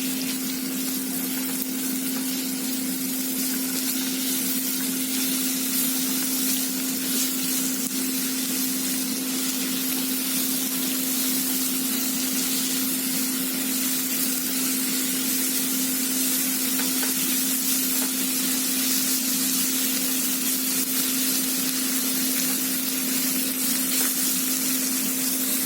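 Onions frying in a pan for butter chicken, a steady sizzling hiss with a constant low tonal hum underneath, continuous and close, no talking.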